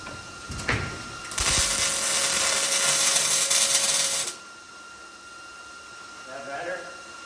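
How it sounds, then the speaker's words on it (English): Welding on a Grumman van: a loud, steady broadband crackle and hiss lasting about three seconds before cutting off abruptly, preceded by a few brief clicks, with quiet background afterward and faint voices near the end. "Go ahead and weld that on up."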